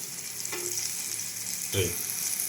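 Water poured into a hot pan of turmeric for a Bengali mango dal: a continuous hiss and sizzle, with a couple of short splashy bursts from the pour and no talking.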